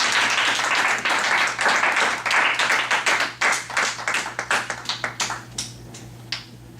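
A church congregation applauds in a dense burst of clapping that thins into scattered claps and then fades out.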